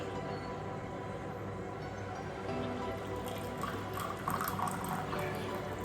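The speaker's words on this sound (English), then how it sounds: "So I'm now gonna pour the first cup of tea." Freshly brewed, very hot neem tea poured into a cup, a soft trickling splash that starts midway and continues steadily, close by over background hum.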